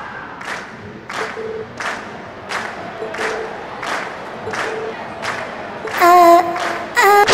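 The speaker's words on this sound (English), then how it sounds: "we've heard your cheers loud and clear" Crowd cheering and clapping from the video game Trails of Cold Steel, a steady roar of many voices with repeated rhythmic pulses, followed near the end by brighter, louder bursts that may include a voice or a musical sting.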